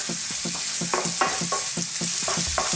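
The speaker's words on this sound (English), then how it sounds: "I'm going to throw in some Chinese cabbage." Chinese cabbage sizzling in a hot pan alongside scallops with ginger and cilantro, with repeated scraping and tossing sounds over a continuous fry hiss, close and clear.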